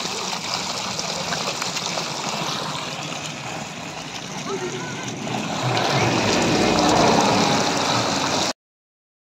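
Water gushes from a broken water pipe, a continuous rushing splash that swells louder near the end before cutting off abruptly, heard up close outdoors.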